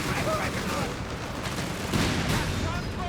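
Anti-tank rocket shots and other explosive weapon fire pop and thud against steady battle noise in Company of Heroes 3, with a caster's voice over the top.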